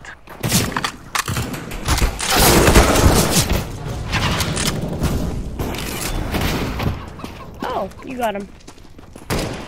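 Rapid CS:GO gunfire from a Glock pistol, with dense bursts of shots and booming thuds running under excited talk throughout.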